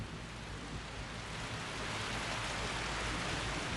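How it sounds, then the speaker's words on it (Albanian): Heavy monsoon rain pours steadily over Kaziranga, a dense, unbroken hiss that swells slightly louder as it goes on, with no voices. "Në Kaziranga shiu ka 3 muaj që nuk pushon"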